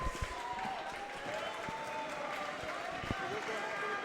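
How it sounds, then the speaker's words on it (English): Fans clapping in a gym at a girls' high school basketball game on senior night, steady mid-level applause with a commentator talking over it and a few sharp claps or bounces. "And the Los Gatos fans clapping"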